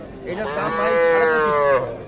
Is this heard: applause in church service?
no